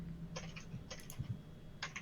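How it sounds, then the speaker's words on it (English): Computer keyboard typing heard over a podcast connection, a few brief clusters of soft keystroke clicks against a low steady background hum, no speech. "I hear you typing."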